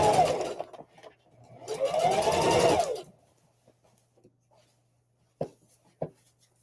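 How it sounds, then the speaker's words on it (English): Sewing machine stitching around a tote bag in two whirring runs, one short and one longer, followed by quiet with a couple of sharp clicks. "So I'm just going to take my time and sew it around."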